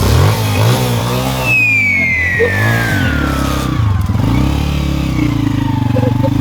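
A motorcycle engine runs steadily and loud throughout, its mid-pitched rumble holding under a long descending whistle-like tone, with a brief clatter near the middle.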